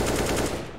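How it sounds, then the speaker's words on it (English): Rapid SMG gunfire in a competitive video game match, a dense continuous burst of loud shots with no talk over it. "Neeble, the last one left, picks up the SMG."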